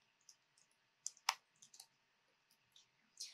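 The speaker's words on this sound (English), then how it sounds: "all you do is start typing here" Sparse, light clicks of computer keyboard typing while adding text to a sticky note in a diagramming tool, a handful of soft, quiet keystrokes spread out irregularly with no talking.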